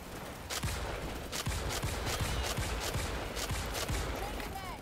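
Rapid gunfire from a weapon in Starship Troopers: Extermination, loud repeated shots in quick irregular succession over a noisy battle background, with some voice faintly mixed in.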